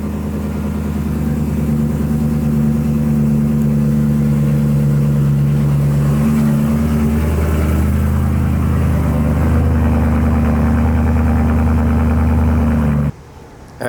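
BMW M3 V8 engine idling with a deep steady rumble and swelling revs, loud and close, running for about thirteen seconds before cutting off abruptly near the end.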